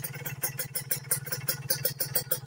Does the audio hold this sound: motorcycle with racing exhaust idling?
yes